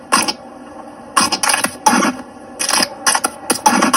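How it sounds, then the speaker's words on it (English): Old BGS card grading slabs, hard plastic cases, are cracked open in a series of about six loud, harsh crunching and scraping bursts with short silent gaps between them. "That's the sound of old BGS slabs getting cracked."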